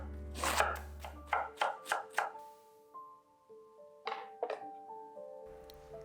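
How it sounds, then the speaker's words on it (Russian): A knife finely shreds cabbage on a cutting board in a home kitchen: a quick run of five crisp chops, a pause, then two more, over soft background music tones. "тоненько нашинковать капусту."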